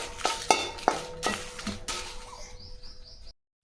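Dry red chilies roasting in a pan for idli podi, with several sharp metallic scrapes and clinks of a spatula against the pan over a soft crackle, close, then quieter with faint chirps before cutting to silence.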